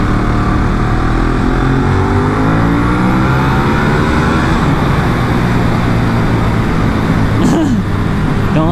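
A Ducati 1198S motorcycle engine burbles loud and close at low road speed, a rough, uneven, low-pitched rumble mixed with wind roar, holding steady without revving up.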